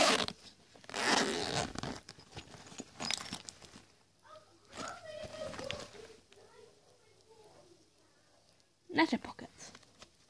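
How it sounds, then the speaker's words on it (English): A zipper is pulled along the big pocket of a pencil case in a few bursts of close, scratchy rasping, with soft handling rustles between the pulls. "I will zip up the big pocket a sec."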